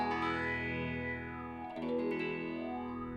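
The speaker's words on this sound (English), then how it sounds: "definitely a more pronounced like vocal effect, and kind of what you would know from a lot of classic phaser sounds" A phaser effect pedal on its medium setting sweeps a sustained guitar tone with a pronounced, vocal-like swirl, steady and fairly quiet with no talking.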